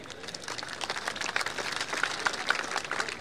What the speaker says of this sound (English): Also a round of applause for the musicians from the Royal Malaysian Armed Forces.